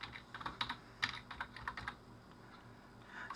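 Close, crisp keystrokes on a computer keyboard as a search is typed into a browser, in quick irregular clusters with brief pauses between them and no speech.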